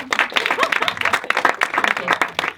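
A stand-up comedy audience claps loudly and unevenly in a dense burst of many hands, close and lively, lasting a couple of seconds with a voice mixed in.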